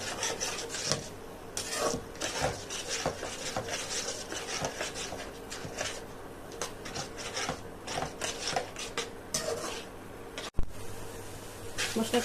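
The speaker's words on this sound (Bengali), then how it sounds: "এবার একটু টক দই সম্পূর্ণ মশলাটা ভালোভাবে মিশিয়ে মশলাটা" Spice paste stirred together with sour yogurt for a whole roast chicken gives a steady, close scraping and rubbing that runs almost without pause, with one brief sharp knock near the end.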